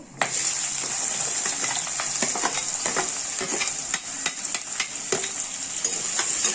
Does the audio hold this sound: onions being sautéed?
yes